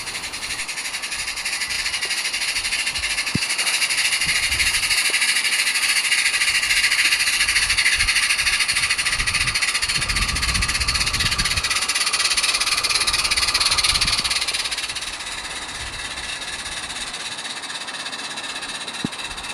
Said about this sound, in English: the engine has to work hard to bring the train up the incline